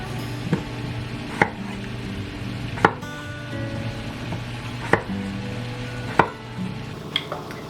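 Potatoes with their skins on are chopped into chunks for a potato soup, heard as about eight sharp knife strikes on a board spaced unevenly over a low, steady background hum.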